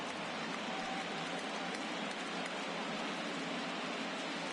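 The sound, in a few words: rain falling at a baseball stadium in Atlanta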